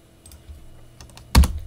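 A short burst of typing on a computer keyboard while entering a command in Ubuntu Linux: a few soft light keystrokes, then one loud, sharp keypress near the end, close and alone.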